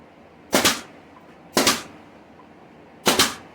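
A nail gun drives 1.25-inch brads into glued pallet wood for a dog bed, firing three loud, sharp shots about a second and a half apart, each with a brief decaying tail.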